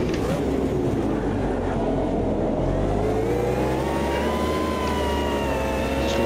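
An old-school racing car in Automobilista 2 spins its rear wheels, the engine note rising steadily under continuous, loud mechanical roar.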